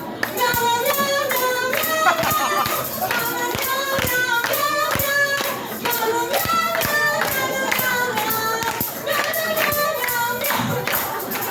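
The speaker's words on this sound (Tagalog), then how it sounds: "Palakpak ang beat sa happy birthday." Steady rhythmic hand clapping keeps a happy birthday beat at a Jollibee party, loud and continuous with a few voices mixed in.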